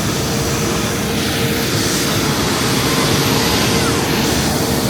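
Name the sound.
airplane landing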